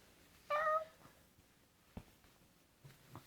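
A toddler of about one and a half imitates a cat with a single short, high, bright meow, followed by quiet pauses broken by a couple of soft knocks and faint murmurs in an indoor room.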